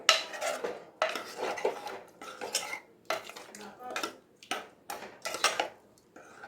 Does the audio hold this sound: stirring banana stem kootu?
yes